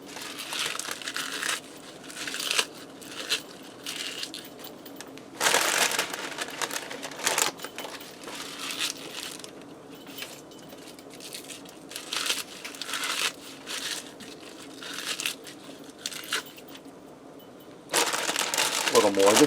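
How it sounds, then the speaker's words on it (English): Baby spinach leaves are ripped by hand and dropped into a Ninja Foodi pressure cooker pot for turkey orzo soup, giving repeated crinkly crunching bursts at close range, with a louder rustle near the end. "And I have some baby spinach. I'm just going to rip some up in here."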